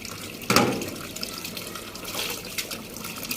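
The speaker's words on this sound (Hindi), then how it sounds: "ये पालक मैं धो रही हूँ" Water splashing and trickling as spinach leaves are washed by hand, with a sudden splash at the start followed by steady low running water and small drips.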